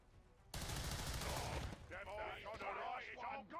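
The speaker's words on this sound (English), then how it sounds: "that was a fireworks of bullets" Dense burst of video-game gunfire in XCOM 2, a loud fusillade of rapid overlapping shots that starts abruptly and fills the first second, then thins as a voice talks over the remaining noise.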